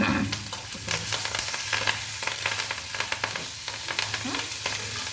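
Urad dal and curry leaves sizzle and crackle steadily in hot tempering oil for a drumstick-leaf chutney, a continuous close frying hiss with sharp pops and occasional stirring scrapes, no talking.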